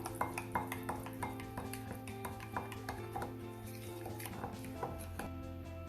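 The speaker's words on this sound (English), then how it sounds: "We'll add sugar, mix this also properly." Sugar being mixed into melted chocolate in a bowl for a microwave brownie, with a steady run of light clinks and scrapes of a utensil against the bowl over a low background hum, close by and with no talking.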